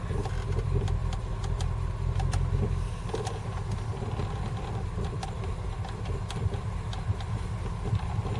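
A Jaguar XJ12 V8 engine, cold-started after sitting for weeks and running without coolant, idles steadily with a low rumbling drone and faint ticking, close and even throughout.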